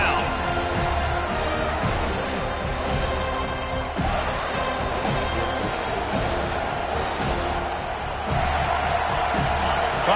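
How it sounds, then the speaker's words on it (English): A home crowd roars at a football game during a third-down defensive stand, a dense, sustained wall of cheering with brief swells, while a commentator talks over it. "Here comes this home crowd"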